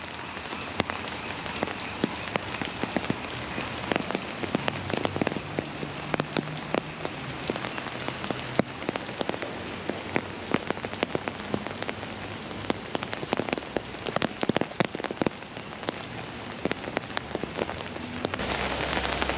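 Rain falls steadily on a rainy afternoon at the Palace of Fine Arts in San Francisco, a dense, continuous patter of drops hitting hard surfaces close by, with no talking.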